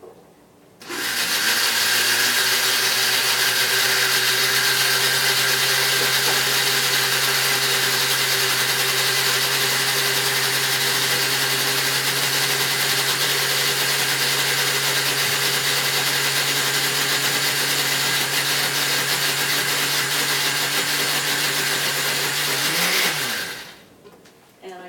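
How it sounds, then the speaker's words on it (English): A kitchen blender runs steadily for about 22 seconds, grinding homemade mustard with coriander seeds, a loud continuous whirring motor with a steady hum that starts abruptly and cuts off at the end. "put it in my blender."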